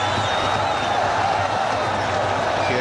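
A cricket crowd at a Bangladesh versus Pakistan match roars and applauds a boundary in a continuous, dense wash of cheering, with commentary voiced over the top.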